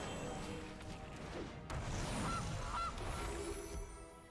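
A goose honk sounds as the Gilded Goose card is played in Magic: The Gathering Arena, two short honks amid a busy wash of game sound effects and a crashing whoosh.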